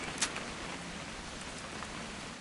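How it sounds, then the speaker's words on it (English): Steady rain patters evenly outdoors, a soft continuous hiss with one brief sharper knock near the start, and no voices over it. "It's gonna rain the whole weekend, isn't it?"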